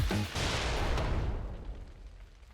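An explosion in the video game Worldbox: a loud booming blast with a heavy rumble that holds steady, then slowly fades into a dwindling tail over a couple of seconds, with no talking.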